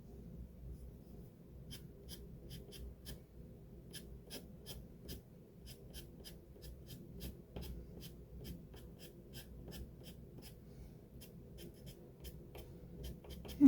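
A Faber Castell Pitt pastel pencil scratching steadily across paper while drawing a saddle-billed stork portrait, giving a close, quiet run of short rasping strokes in an irregular rhythm throughout, with no talking.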